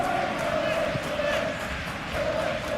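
Stadium crowd noise from the PES 2021 football video game, in a Leeds vs Manchester City Premier League match: a steady, dense roar of spectators holding at an even level for the whole stretch.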